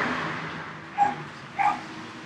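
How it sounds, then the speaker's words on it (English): Dogs bark from some distance, two short separate yelps about half a second apart over a quiet background hum. "all the other dogs are barking at LuLu"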